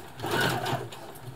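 A Brother Extra Tough sewing machine stitches in one short, close, steady burst of motor hum and needle chatter, with no talking.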